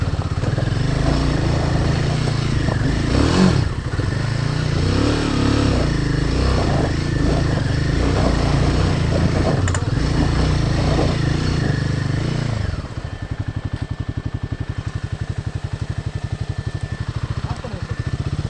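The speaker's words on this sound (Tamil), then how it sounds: "இன்னும் வீல் பின்னாடி வந்து ஸ்லிப் ஆகிட்டே இருக்குது, க்ரிப்பே ஏற மாட்டேங்குது." A motorcycle riding off-road on an unmarked trail, its engine droning loudly and continuously and surging as the rear wheel slips for grip, then dropping to a rough, pulsing idle.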